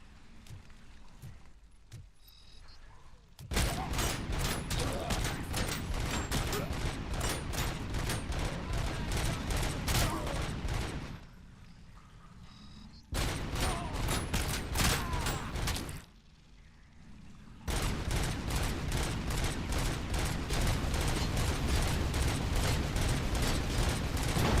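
Gun turrets in the video game Robocop: Rogue City fire in long sustained automatic bursts, loud and dense, breaking off twice for a few seconds before resuming.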